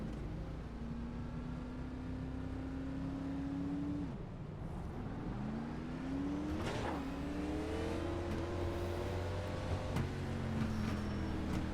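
Race car in the iRacing ARCA Menards series pulling away from a standing start, the engine note climbing through short first and second gears with shifts, loud and continuous throughout.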